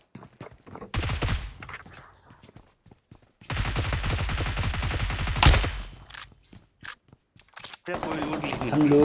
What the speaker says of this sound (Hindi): हम लोगों को पीछे से गन साउंड आती है।